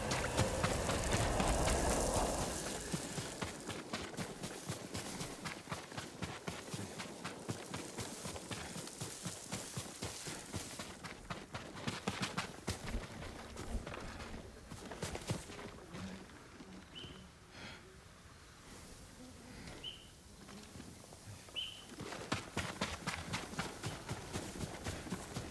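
Continuous rapid hoofbeats of a galloping horse in Ghost of Tsushima, steady and dense throughout, with a noisy rush of movement.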